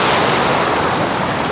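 Sea waves break at Vizag beach in a continuous, loud roar of surf with a windy rush, and no voices are heard.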